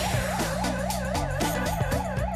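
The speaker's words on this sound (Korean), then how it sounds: "공사장 가득 위험을 알리는 사이렌이 울려 퍼진다." A warning siren at an underground power tunnel construction site in Busan wails continuously in a rising-and-falling cycle, loud and close, over a steady low mechanical drone.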